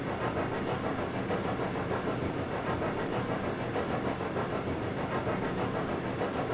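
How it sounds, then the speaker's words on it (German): Steam locomotive running on the Brockenbahn mountain railway in the Trainz 22 simulator, a steady dense rumble of engine and rolling wheels with faint rhythmic clatter, continuous and close. "Und schon, wenn hier die Dampflok unterwegs ist."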